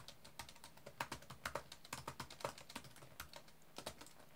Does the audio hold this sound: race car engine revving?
no